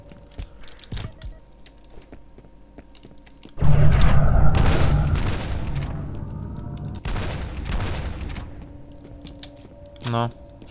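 Loud, booming gunfire and explosions from the video game F.E.A.R. in a sustained burst, with crunchy impacts and scattered shots before and after.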